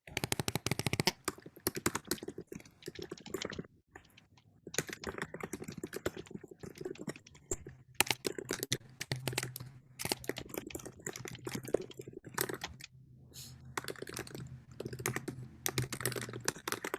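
Steady, rapid typing on a computer keyboard, close and continuous with dense clattering keystrokes and only brief pauses.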